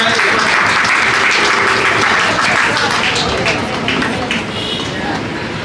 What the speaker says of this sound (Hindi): पूजा जी के लिए जोरदार तालियां।